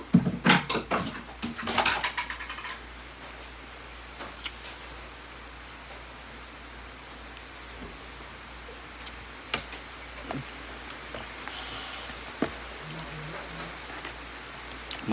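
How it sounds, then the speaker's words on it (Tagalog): Rain falling outdoors, a steady faint patter with scattered sharper drips and taps, louder bursts near the start, continuing quietly throughout without any talking. "Maulan naman sari guys."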